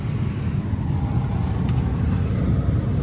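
A 2004 Ford Explorer Sport Trac with an automatic transmission and a torsion bar lift rumbles along on a test ride. Steady low engine and road drone fills the cabin without pause.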